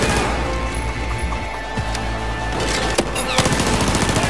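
Automatic weapon fire from the Battlefield 4 video game in the Kunlun Mountains, a steady loud rattle of machine-gun bursts with a few sharper cracks standing out.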